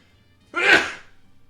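A single short sneeze from a MapleStory game skill effect sounds once, sharp and close, then fades quickly against a quiet background hum.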